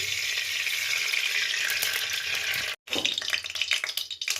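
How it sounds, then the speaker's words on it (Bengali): Raisins fry in hot oil in a wok with a bright, steady sizzle close up, interrupted by a sharp momentary break before the crackling resumes more unevenly. "প্রথমে কিশমিশটা একটু ভেজে নেবো, তো কড়াই তেল দিয়ে দিচ্ছি"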